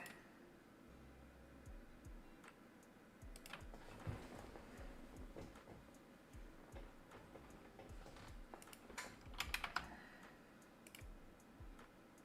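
Keys clicking on a computer keyboard in irregular bursts of typing, quiet and close, with a few sharper clusters of keystrokes toward the end.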